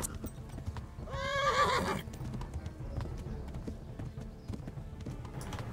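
A horse lets out a loud whinny near the start, surrounded by a steady clatter of hooves that continues throughout.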